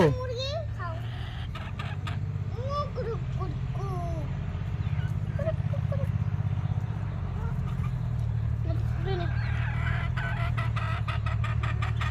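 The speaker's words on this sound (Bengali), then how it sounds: "মুরগিকে আটা খাওয়াচ্ছ?" Chickens cluck and chirp in short, scattered bursts while being fed flour, heard close over a steady low rumble that runs through the whole scene.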